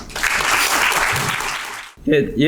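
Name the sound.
audience applause at a forum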